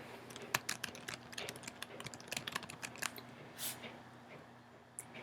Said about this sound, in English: You can type in your own keyword.